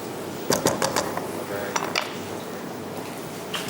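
A spoon clinks and scrapes against a cooking pot while yogurt is mixed into black-eyed peas in a kabab recipe. There are several quick metallic taps over a low kitchen background, and a voice speaks faintly underneath.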